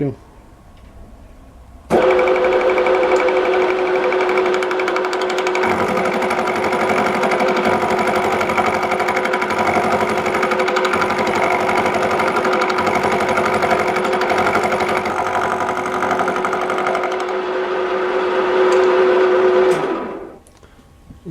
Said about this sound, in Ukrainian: фреза, то є сверло по бетону